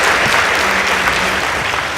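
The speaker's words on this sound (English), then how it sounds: "Let's give both teams a round of applause." Studio audience applauding both teams after a girls' high school debate contest, Chuka Girls versus Chief Mbogori Girls; dense, loud, steady clapping fills the whole stretch with no talk over it.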